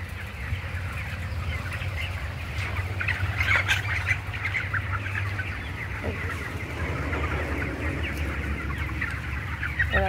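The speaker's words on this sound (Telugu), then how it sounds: "కోళ్ళు బయటకు వచ్చేస్తాయి" Chickens cluck and squawk steadily on a village poultry farm, a dense chorus of overlapping calls over a constant low background rumble, with no one talking.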